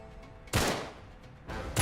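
Two sharp, loud sawed-off shotgun blasts in Uncharted 3 ring out about a second apart, each a broad burst with a short decaying tail over a low game background hum.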